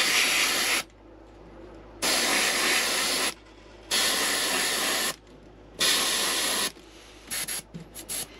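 An airbrush spraying paint onto a swimbait in a pumpkinseed pattern: four steady hissing bursts of about a second each with brief gaps, then a few short spurts, close and alone.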